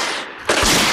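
A staged gunshot sound effect in a comedy stage show, where a soldier fires at a mosquito: a sudden loud crack about halfway through, preceded by hiss and followed by a short ringing tail.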